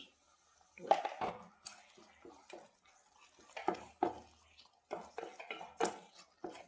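Kerala-style halwa being stirred in a pan with a spoon, giving scattered soft scraping and tapping strokes in a loose, irregular rhythm, close and moderately quiet with short pauses between strokes.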